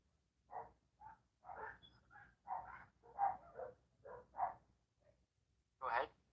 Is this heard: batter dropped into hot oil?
no